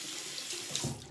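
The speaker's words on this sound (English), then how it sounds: "Add water, do it slowly." Tap water runs into a sink while shaving lather is being hydrated, a quiet steady close splashing stream with a brief louder gush near the end, no voices.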